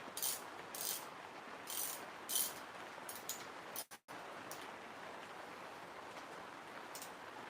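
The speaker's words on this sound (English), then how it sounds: "Nobody likes to hear the old ratchets go." An old ratchet wrench clicks away on bicycle parts in steady bursts of close, fairly faint ratcheting, with a brief gap partway through.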